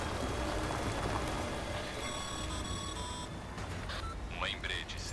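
Steady rain pours in the video game Death Stranding, a dense continuous wash with beeping tones in the middle and brief game sounds near the end.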